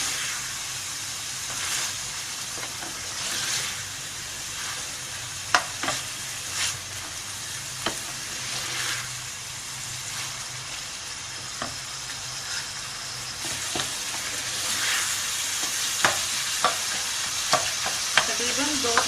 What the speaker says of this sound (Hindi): तकरीबन 2 से 3 मिनट को हमने अच्छे से भूनना है, ताकि हमारे ये जो टमाटर हैं ये बिल्कुल गल जाए।